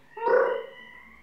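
Pet cat Miśka gives a single drawn-out meow, close and fairly soft, rising and then trailing off over about a second with no voices around it.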